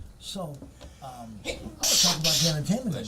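A single sharp sneeze bursts out near the end, loud and close, following someone speaking in conversation.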